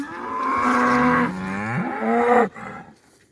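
Cattle lowing in an Irish outwintering field, with calves leading ahead of the cows: a long, loud, close moo with a wavering pitch, followed by a second rising call that cuts off, no talk.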